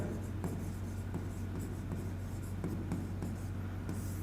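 Marker or chalk writing on a classroom board during a Class 6 math lesson on fractions, with short scratchy strokes repeating steadily over a constant low hum, no voices.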